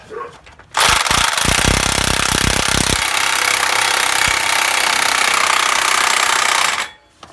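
A DeWalt impact wrench hammers on a Jeep axle shaft nut, one loud continuous rattling burst of about six seconds that starts with rapid impacts, then holds a steady harsh whir before stopping, with no speech.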